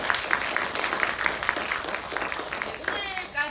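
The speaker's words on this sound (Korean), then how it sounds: "큰 박수 한번 부탁드리겠습니다." Brief applause from residents at a community assembly in Nowon, clapping with a few distinct nearby claps standing out, dropping off after about three seconds.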